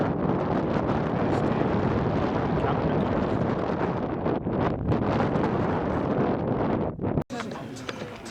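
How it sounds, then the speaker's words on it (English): Strong wind roars and buffets the microphone at a coastal headland on Cap de Creus, a loud, steady rush that runs throughout and cuts off abruptly near the end. "The wind seems dropped a bit now, so maybe you can hear me."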